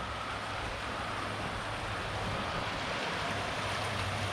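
A river flows beside a tent campsite, a steady, broad rushing wash of water, close and continuous with no voices.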